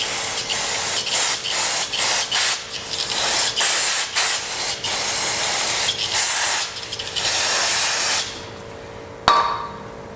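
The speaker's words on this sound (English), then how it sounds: "Just going to use typical non-chlorinated brake cleaner." Non-chlorinated brake cleaner hisses steadily from an aerosol can onto a removed cam solenoid from an R35 GTR, with short pauses and stutters between bursts and a final brief spurt after a quiet moment.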